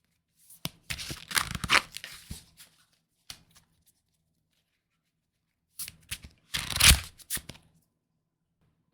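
Tarot cards being shuffled and pulled from the deck: two close bursts of papery riffling and flicking, split by a few seconds of near silence.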